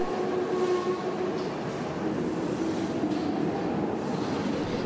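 A train on Budapest's historic Millennium underground line, Line 1, rumbles and hums close by at a tiled station, with faint wheel squeals and rising whines over a steady, loud rolling noise.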